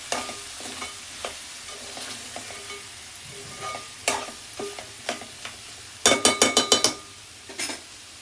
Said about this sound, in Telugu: ఉప్పు కారం వేసిన తర్వాత బాగా మిక్స్ చేసుకొని